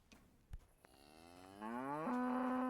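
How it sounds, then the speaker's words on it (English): A cow in Kingdom Come: Deliverance lets out a single long, loud moo that rises and swells, heard alone over faint ambient noise. "God damn, they did make the cows loud,"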